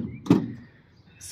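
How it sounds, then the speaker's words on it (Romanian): A sliding side door on a 2021 Renault Express light van moves and thuds shut once at close range, followed by a faint mechanical rattle. "Cea mai lată ușă culisantă pentru utilitarele ușoare mici."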